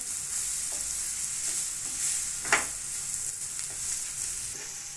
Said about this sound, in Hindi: अब इन चीज़ों को मिक्स कर लें। अच्छी तरह से आपने इसको मिक्स कर लेना है।